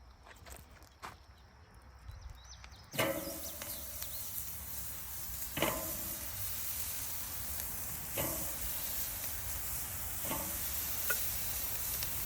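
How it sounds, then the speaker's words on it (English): Burgers hit the grate of a hot Weber kettle grill and flare into a loud, continuous searing sizzle, with scrapes and clanks of placing each patty at intervals, close and outdoors. "She's hot, so I'm gonna go ahead and put these burgers on."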